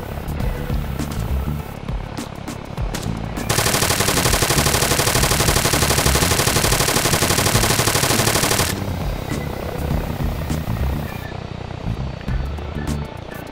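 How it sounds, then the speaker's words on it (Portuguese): Rapid bursts of automatic gunfire in the video game Arma 3 blaze loudly over a roaring engine, with a long sustained volley in the middle before the firing trails off. "Estão atirando na gente."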